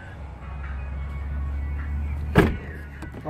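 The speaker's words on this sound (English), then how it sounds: "Sunroof." The electric sunroof of a 2009 Chevrolet Silverado pickup hums open with a low, steady motor drone inside the cab, ending in a soft thump near the end.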